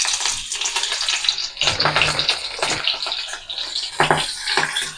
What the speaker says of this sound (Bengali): তেল গরম হয়ে গেছে, তেলের মধ্যে দিয়ে দেবো চেরা কাঁচা লঙ্কা